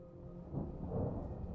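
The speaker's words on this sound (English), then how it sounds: "And the thunder comes again." Distant thunder rolls low and soft beneath steady rain in a gentle storm, swelling slightly and then holding as a faint rumble with no voices.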